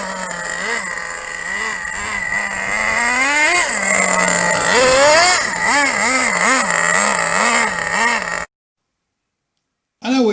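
A nitro RC car engine revs loudly and close, its high buzzing pitch rising and falling in repeated throttle blips, then it cuts out abruptly into silence before a brief return at the end.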